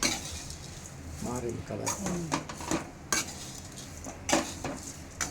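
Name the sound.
frying atukula (poha) mixture in a pan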